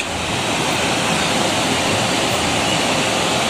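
A waterfall pours between mountains along the Kedarnath trekking route, a loud, steady, broadband rush with no break and no voices.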